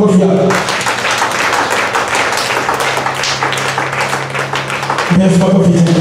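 A church congregation claps in praise of Jesus, a dense, steady burst of many hands lasting several seconds, with voices mixed in underneath.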